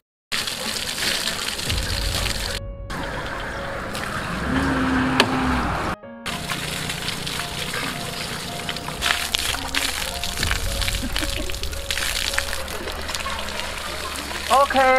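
Water gushes and splashes steadily into a plastic drum as it is refilled by a drum pump drawing from a large river. Talk runs over it and there are a few brief gaps.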